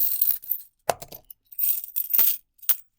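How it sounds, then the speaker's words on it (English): Silver dimes dropped onto a computer keyboard, several quick bursts of bright metallic clinks and jingles scattering across the keys, close and alone. "Dropping them on the keyboard."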